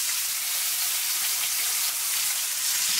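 Chicken pieces fry skin side down in a pan on medium heat, giving a steady, dense hiss and sizzle that stays even throughout with no talking.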